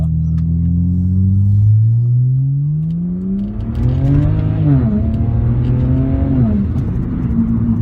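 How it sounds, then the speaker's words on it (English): A 2007 BMW 335i automatic driven in manual mode, engine revving up loudly through the gears from inside the cabin, with the pitch dropping at each shift and climbing again. "I'll just go into manual mode. I have the automatic version. So I'll just kind of roll through the gears here."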